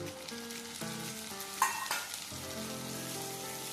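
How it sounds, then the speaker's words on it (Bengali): Chopped tomatoes hit a pan of fried onion and garlic over a medium gas flame and fry with a steady close sizzle, with a brief sharper spurt and some stirring, while a soft tonal background hum plays underneath. "এই টমেটোটা নরম হওয়া পর্যন্ত মিডিয়াম ফ্লেমে গ্যাসটা রেখে ভাজবো।"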